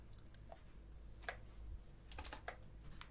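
Quiet typing on a computer keyboard at a game dev desk, a few scattered key clicks followed by a brief quick burst of taps, close and soft.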